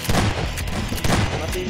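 Bursts of gunfire in Garry's Mod, aimed at eggs inside a prison map, hit in two loud clusters about a second apart over a steady backdrop of game noise.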